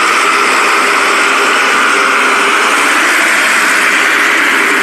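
Mahindra tractor engine running steadily on a road test, a continuous broadband drone with a bright, hissy mid-to-high texture and little variation, close and loud throughout with no talk.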